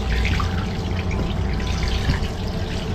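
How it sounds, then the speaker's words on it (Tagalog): Tap water runs steadily into a sink as freshly picked mangoes are rinsed, a continuous close splashing wash with no pauses. "Hugasan lang po natin"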